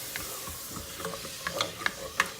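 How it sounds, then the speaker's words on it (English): Cauliflower rice being stirred in a pan after coconut milk is added, with soft scraping and wet stirring over a faint background sizzle and a few sharper clinks of the utensil near the end. "then you're going to add the coconut milk in. Okay. And stir that around."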